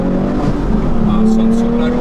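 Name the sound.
Porsche 911 R engine revving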